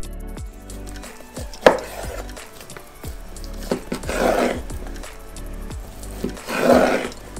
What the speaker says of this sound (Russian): Также нужна ветчина. Нарезаем ее на тонкие ломтики.